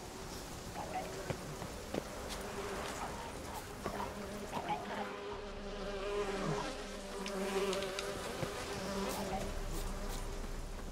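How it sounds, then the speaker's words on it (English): Bees swarm and buzz around the player in The Witcher 3, a continuous droning insect hum with fluctuating intensity, set among game background sounds and occasional thumps. "those bees are actually chasing me"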